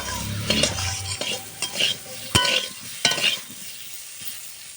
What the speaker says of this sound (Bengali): আলুগুলো দিয়ে সেম পয়সাতে লবণ আর হলুদ দিয়ে বেশ লাল লাল করে ভেজে নেবো